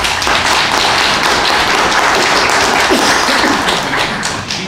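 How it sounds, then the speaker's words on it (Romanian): Steady, dense applause from an audience at a book launch, a continuous wash of clapping for nearly five seconds with no voices over it. "V-aș propune să-l aplaudăm pentru efortul făcut"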